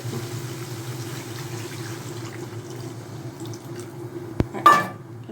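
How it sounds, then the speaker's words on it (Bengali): Water is poured into a simmering pot of Bengali fish-head muri ghonto, a short splash near the end that follows a long stretch of steady low kitchen hum, with no voices. "তো এবার আমি আর একটু জল দেবো, সেদ্ধটা বাকি আছে।"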